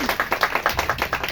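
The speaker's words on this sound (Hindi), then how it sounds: "कटारिया के लिए जोरदार तालियां" Rhythmic clapping for Mahesh Kataria at a stage event, a fairly close, brisk and regular series of claps with no one speaking.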